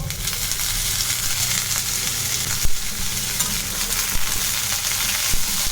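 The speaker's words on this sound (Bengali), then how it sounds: "এবার পেঁয়াজ কলি আর পেঁয়াজ একই সঙ্গে ভেজে নেব" Onions and spring onions frying together in a pan, a dense, steady sizzle running throughout with a few sharp knocks of a stirring utensil.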